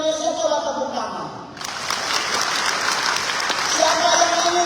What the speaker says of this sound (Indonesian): Siapa yang bangga jadi orang Indonesia coba tepuk tangan.